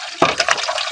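Water gushes strongly from a hose or pipe after rain, a steady broadband rush that starts abruptly and continues close and loud, with no talk.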